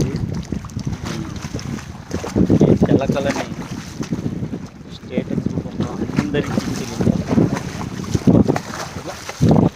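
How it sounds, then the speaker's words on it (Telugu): Strong wind buffets a microphone beside a lake, gusty low rumbling in uneven bursts, with someone talking through it. "గాలి ఎక్కువైపోయింది"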